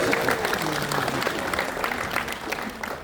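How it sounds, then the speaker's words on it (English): An audience at a San Diego Comic-Con panel gives a round of applause, a steady, moderately distant patter of many hands with a voice speaking over it throughout. "Have a round of amazing, applause for Victor Fleming"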